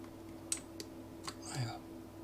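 A few light clicks sound as the Ctrl key is pressed and the mouse is clicked during Blender hard-surface modelling. They are faint and scattered over a low steady hum, with a soft murmur of voice.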